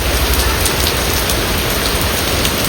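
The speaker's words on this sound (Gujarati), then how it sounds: "આજે તો વરસાદ આવ્યો છે બહુ" Heavy rain pouring down outdoors, a loud, dense, unbroken hiss of drops drumming on surfaces close by, steady throughout with no voices.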